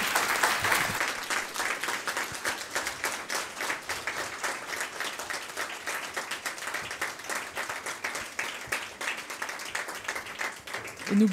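A seated audience at an evening talk during an arts festival applauds the speakers, with many hands clapping in a sustained round that holds steady for about eleven seconds before easing off.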